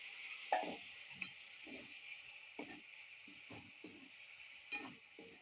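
Mutton being added to a curry in a pan, heard as steady sizzling with soft, irregular stirring scrapes and knocks, faint and close, with no talk.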